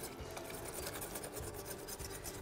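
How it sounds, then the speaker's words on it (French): A whisk scraping and stirring pastry cream in a saucepan while hot liquid is poured in, with quiet rhythmic rasping strokes repeating throughout. "je vais aller verser ça en fouettant dans ma casserole."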